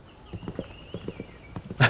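Horse hooves thudding in a rhythmic canter during a show-jumping riding clinic, evenly spaced muffled beats with a faint high tone above and a sharp louder knock at the end.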